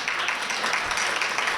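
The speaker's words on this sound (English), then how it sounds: "I pause for applause." Audience applause during a city speech about the Gresham safety levy, a brief steady patter of many hands clapping at moderate distance with no voices.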